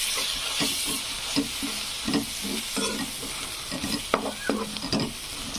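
Onions frying and being stirred in a pan with red chilli powder for egg bhurji, a steady close sizzle broken by repeated scraping stir strokes throughout, with no talking.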